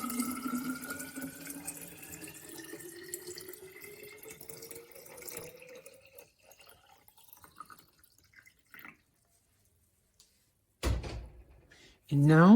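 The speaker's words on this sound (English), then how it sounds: "now let's fill it up with water" Filtered water pours into a jar of sauerkraut with a rising gurgling tone as the jar fills, then stops; a few quiet knocks follow and a brief loud clunk near the end.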